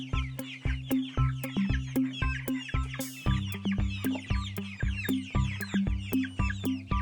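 A cartoon hen sound effect gives a brisk series of clucks, about a dozen evenly spaced and close. The bright, repetitive calls sound alone with no talking.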